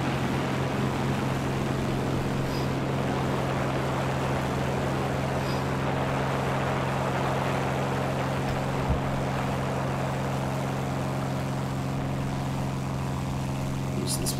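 A propeller fighter plane in the War Thunder video game drones steadily, its engine a constant loud hum with a low tonal buzz, unbroken for the whole stretch with no talking.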